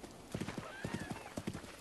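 A horse's hooves clip-clop in Zelda: Breath of the Wild, a quick, fairly close rhythm of clear hoof beats with a faint whinny drifting in midway.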